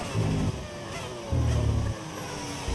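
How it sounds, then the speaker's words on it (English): A Formula 1 car engine in the F1 25 racing game, altered by an audio mod, drones steadily with two stronger low surges as the revs rise and settle, heard alone without talk. "Does the engine sound different? It's a mod. It's a mod. It's an audio mod."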